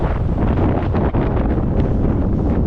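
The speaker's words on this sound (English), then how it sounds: "Oh, straight into the wind there" A strong headwind roars across the microphone of a touring cyclist on an Icelandic road, a loud, dense, continuous buffeting rush with no clear breaks.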